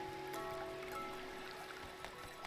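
A river flows in the video game A Short Hike, a soft steady trickling wash with gentle sustained music tones over it and no talk.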